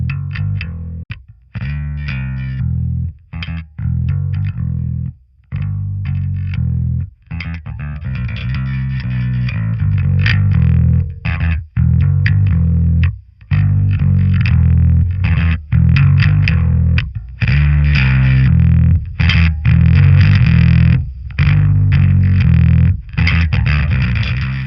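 A bass guitar runs through the Audio Assault BassAmp CM amp simulator with its input pushed hard for gritty distortion, playing a steady, loud line of choppy notes broken by short silent gaps.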